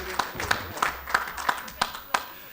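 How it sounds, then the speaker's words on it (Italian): Seven sharp claps sound in a slow, even rhythm, with a faint murmur of voices underneath. "direi di fare un applauso a Paolo in presenza"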